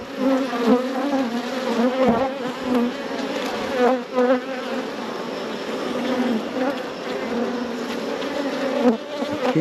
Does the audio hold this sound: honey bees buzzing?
yes